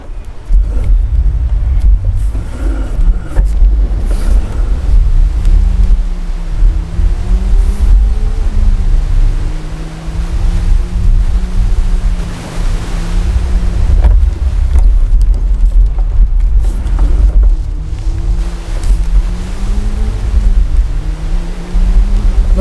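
A Land Rover Defender 4x4 pushes through a jungle water stream, its engine droning and rising in pitch under heavy splashing, rushing water and wind buffeting, loud and close the whole way.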